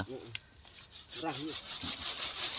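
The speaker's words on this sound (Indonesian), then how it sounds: "Alatnya pakai gergaji." Rough rasping strokes of a hand saw cutting a cocoa tree branch during pruning, with someone speaking intermittently over the sawing outdoors.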